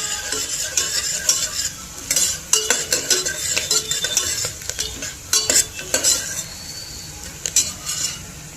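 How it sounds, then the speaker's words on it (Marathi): Onion and green chili stirred and sautéed in a pan over a raised gas flame, a spoon scraping and clinking against the pan in irregular strokes over a soft sizzle, no talk. "आता मिरची घालून जरा कांदाचा गुलाबीसर होईपर्यंत परतून घेणार आहे"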